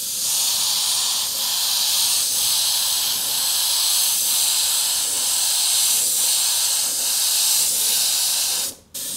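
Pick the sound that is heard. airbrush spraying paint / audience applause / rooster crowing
airbrush spraying paint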